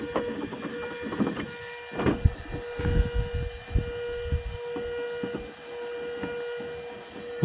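A steady high-pitched electric whir of a small cooling fan on a model car, constant in tone, with occasional clicks and bumps of handling nearby.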